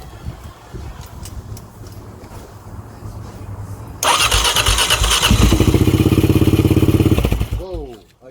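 A Kawasaki motorcycle, freshly reassembled, starts up: a low rumble for about four seconds, then a loud burst of cranking and catching that settles into a rapid, rough-sounding pulse before the engine winds down, with someone speaking early on.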